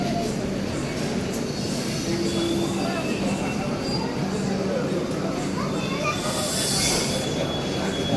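Padmavati Express from Madanapalle to Hyderabad at Madanapalle railway station, wheels squealing and a steady rail rumble, loud and close, with people talking over it on the platform.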